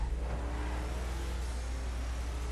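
A Canis Kamacho off-road truck in GTA 5 revs hard with a steady, loud droning engine roar and no talking over it.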